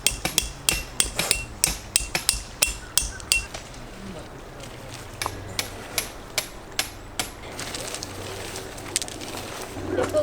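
A hammer drives tent pegs into the ground while a backpacking A-frame tent is pitched at a campsite, sharp metallic strikes in quick regular bursts, close and clear, then softer repeated taps.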